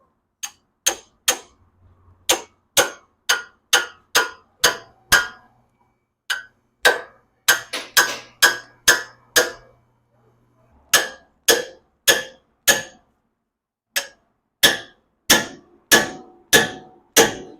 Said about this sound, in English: just hit it with the hammer, drive it through